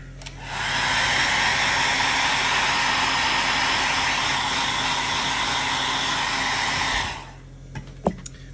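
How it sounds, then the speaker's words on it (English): A hair dryer blows in a loud, steady whoosh for about six seconds, drying paint on a scale model, then switches off, followed by a few faint clicks and knocks. "just give that a quick blast with the hairdryer"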